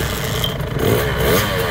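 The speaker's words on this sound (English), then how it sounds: "Let's hear you rev that engine" A dirt bike engine roars close by, a loud, steady rasping drone that swells slightly as the throttle opens.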